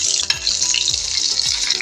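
Crushed, chopped garlic frying in hot oil, with a steady loud sizzle and a few scraping stirs throughout, no voices.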